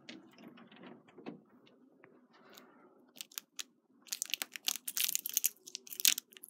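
Metallic rattling and jingling of a keyring while someone opens a Silent Knight 5207 fire alarm panel, starting with faint handling clicks and building into loud, close, irregular jangling and clacking near the end.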